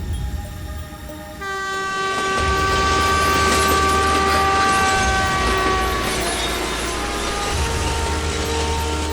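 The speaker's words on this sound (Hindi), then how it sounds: "कावेरी एक्सप्रेस पास हुई।" The Kaveri Express passes close by with a long, loud train horn blast over the heavy rumble of the rolling carriages, which keeps going steadily after the horn fades, with no talk over it.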